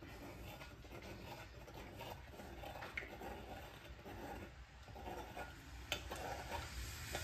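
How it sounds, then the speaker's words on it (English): Lye being stirred into coffee to dissolve it for goat-milk soap, a faint steady scraping and swishing of a utensil in a container, close but quiet, with a couple of light clinks. "my lye is in my coffee now. And I'm just stirring this to dissolve it"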